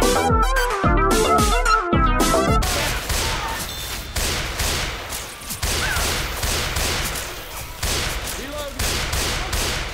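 Rapid bursts of gunfire from the Left 4 Dead 2 video game, dense and continuous across the whole stretch, loud and close, with a voice talking over it in places.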